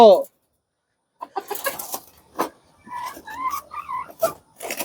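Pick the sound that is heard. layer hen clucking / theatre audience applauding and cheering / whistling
layer hen clucking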